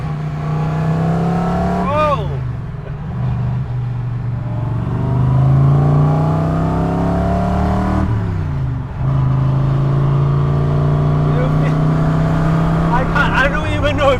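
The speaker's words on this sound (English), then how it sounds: "it's a pretty damn good engine note" Rumbling 5.0-litre 400 hp American V8 of a 1996 AC Cobra MKIV, a steady loud engine note swelling as revs climb and fall, heard close throughout with someone talking over it.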